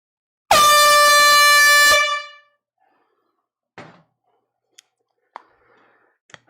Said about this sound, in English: Fair warning, air horn coming.